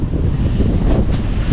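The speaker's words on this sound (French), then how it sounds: "On a le vent dans le dos." Strong wind buffets the microphone aboard a sailboat running downwind under genoa alone on the open Mediterranean with a big following swell, a loud continuous low roar with rushing gusts.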